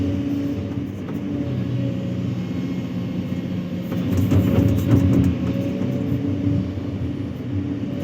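An excavator digging a narrow pond keeps shifting position, its diesel engine droning steadily and rising in a louder surge midway as the machine moves left and right.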